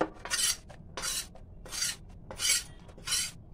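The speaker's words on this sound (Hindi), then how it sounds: "एक बर्तन में दूसरे बर्तन में इस तरीके से बेसन को निकाल लेंगे" Roasted gram flour being scraped with a utensil from one cooking pot into another, five or so rough rasping strokes in an uneven rhythm, close up and with no talking.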